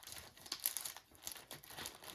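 Crinkling plastic packaging around a newly bought bookmark die cut for scrapbooking, soft, quiet rustles and crackles that come in short bursts.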